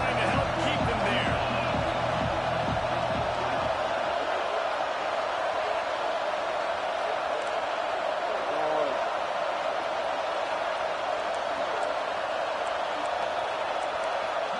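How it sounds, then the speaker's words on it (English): Stadium crowd at a Tennessee college football game, a loud continuous roar under a commentator's talk, with a brief rhythmic thumping in the first few seconds. "They've got him pinned deep in their own end, and this crowd trying to help keep them there."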